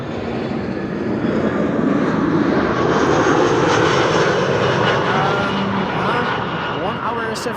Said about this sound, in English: This is Shamrock Flight 604, Aer Lingus arriving from Dublin in Ireland.